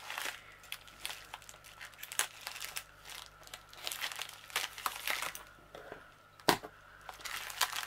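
Crinkling plastic mailing bag handled up close and cut open with scissors, small snips and tearing sounds, irregular and fairly quiet, ending with one sharper crackle.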